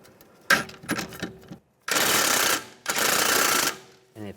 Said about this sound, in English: Using a 16mm socket, you want to take this nut off.